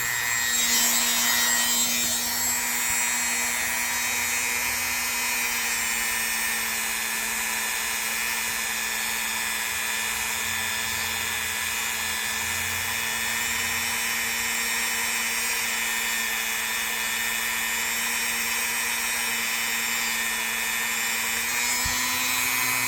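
A Dremel rotary tool with a fresh polishing pad whines steadily on a classic Boker USA electrician's knife. The high, tonal drone runs unbroken from start to finish, with no talking.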